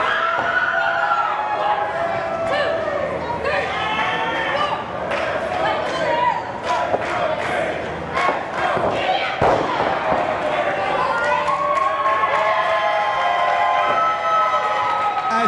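Wrestling crowd in Hialeah cheering and reacting loudly, with scattered thuds and slams from the ring running throughout, under a commentator talking over the noise.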